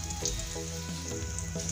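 Potato cutlets frying in shallow oil, a soft, steady sizzle with faint crackles and a low hum underneath, fairly quiet and with no one speaking.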